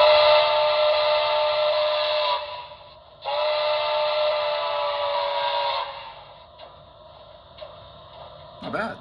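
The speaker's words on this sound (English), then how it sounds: "Alright, let's try the whistle here" A loud, steady steam whistle from a BLI brass ATSF Blue Goose #3460 model locomotive blows twice, each blast lasting a couple of seconds, followed by quieter clicks and a short burst at the end.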